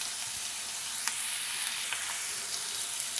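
Onion, green chilli and curry leaves sizzle steadily in hot oil for a prawn and ridge gourd curry, giving a continuous close hiss with a few brief crackles and pops.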